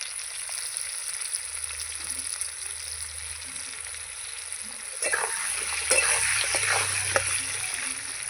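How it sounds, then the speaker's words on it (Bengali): Salted potatoes frying in a pan give a low, steady sizzle that grows busier and more crackly midway, with faint stirring sounds, close and continuous. "এবার আলুটাকে ঢেকে ভেজে নেব"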